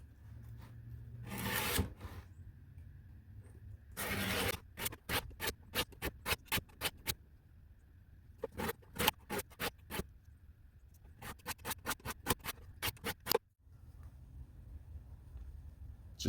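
600-grit sandpaper working a Schrade SP2 pocketknife blade: a few long rasping scrapes, then rapid bursts of short even strokes, close and distinct with no voices.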